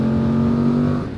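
A Voge DS800X Rally motorcycle engine pulls hard under acceleration, a loud, close, steady drone with a rising engine tone that fades slightly at the end of the short burst.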